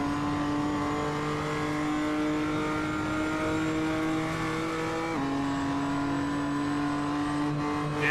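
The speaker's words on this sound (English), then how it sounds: "you hear the revs ping off the limiter for a moment as all 4 wheels leave the" Race car engine held at high, steady revs on a hilly stretch of the Nürburgring, a strong harmonic drone with a sudden pitch dip near the middle as it touches the limiter, loud and close throughout with no talk.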